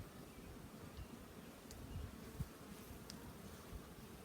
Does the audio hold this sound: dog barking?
no